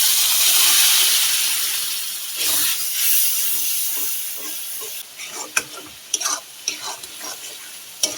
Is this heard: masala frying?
yes